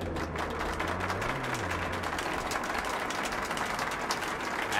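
Crowd cheers and applauds at a theatre show in the video game Metro: Last Light Redux, a steady wash of clapping that holds throughout at moderate volume.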